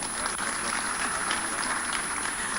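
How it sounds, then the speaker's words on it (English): A crowd applauds the Jarawa dancers from Plateau State, a dense, steady wash of clapping that holds at an even level throughout with no pauses. "let's give them another round of applause"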